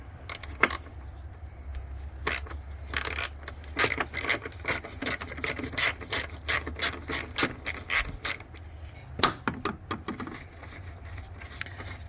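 A ratchet wrench loosens a 10 mm hose bolt in the engine bay of a Hyundai Sonata GLS, clicking in quick repeated bursts of ratcheting strokes with brief pauses, close and clear.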